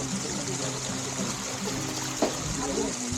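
A waterfall near a hill temple rushes and splashes in a continuous, even wash of water noise that stays fairly close and steady, with a single brief splash partway through.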